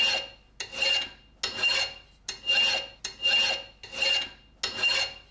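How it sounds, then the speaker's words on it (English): Hammer burnishing a hardened metal surface in seven rhythmic rasping strokes, each a bright scraping sweep with brief pauses between, close and fairly quiet with no talk. "All it's doing is just burnishing the surface and making it shiny"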